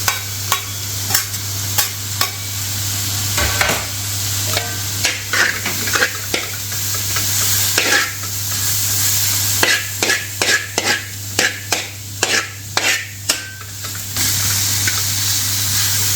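Chopped ginger and garlic fry with onions on a tawa for dhaba-style chicken, making a continuous close sizzle broken by frequent rhythmic spatula scrapes and clinks, with no talking.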